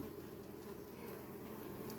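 Honeybees around a beehive give off a faint, steady, continuous buzz that drones on without a break, with no voices over it.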